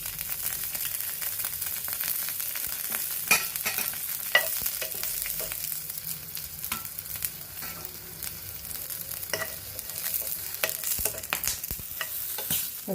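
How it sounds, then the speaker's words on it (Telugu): Coriander seeds and cumin fry lightly in a pan, a steady soft sizzle with scattered crackles and pops from stirring running throughout, close and even. "కొంచెం ధనియాలు, కొంచెం జీలకర్ర కూడా వేసుకొని కొంచెం లైట్గా వేయించుకుందాము."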